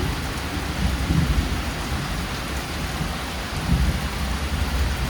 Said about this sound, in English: I wasn't expecting this much lightning for this storm.